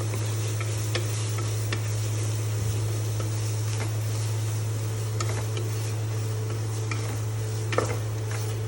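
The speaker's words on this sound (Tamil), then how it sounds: "I'm just sauteing this." Ginger garlic paste sautés in a pan over medium-high flame for chicken biryani, a steady sizzle broken by scattered scrapes and taps of a spoon, above a low constant hum.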